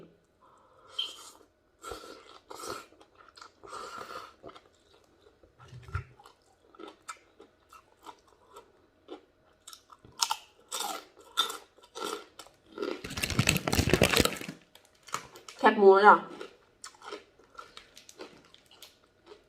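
Someone eats papaya salad and crispy pork, giving close, scattered bites and crunchy chewing in a quiet room, with a louder burst of crunching near the end.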